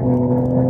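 Porsche 911 Carrera 4 GTS flat-six engine giving a brief, loud, steady sustained roar with a strong low harmonic drone and no talk.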